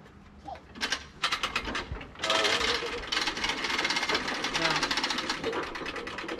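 A beam lift being cranked up to raise large beams for a patio roof build, a rapid mechanical ratcheting clatter that starts in short bursts and then runs steadily and loud, with people talking nearby.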